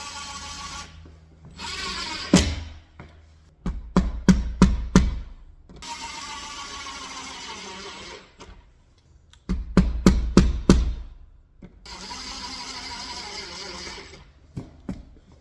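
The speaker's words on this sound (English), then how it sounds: "Got the drywall anchors, go ahead and screw them into the wall." An impact driver sets drywall anchors into a wall in short bursts, its motor whirring and then breaking into rapid hammering rattles. The loud, close bursts come in two main groups, with brief pauses between them.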